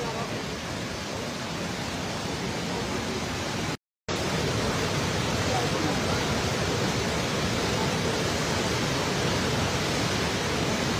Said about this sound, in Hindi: पानी की रफ्तार बहुत ज़्यादा है।